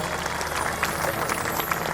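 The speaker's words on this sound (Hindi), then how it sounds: "ताली बजाएं एक बार संतों के समान में।" Audience clapping in honour of saints at a large night devotional jagran at a cow shelter in Rajpura, a dense, steady patter of many hands filling the space, with a voice faintly present beneath it.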